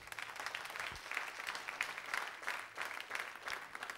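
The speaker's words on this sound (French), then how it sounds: "On acclame le Seigneur." Church congregation applauding in a steady patter of many hands clapping, faint and somewhat distant, continuing evenly for a few seconds.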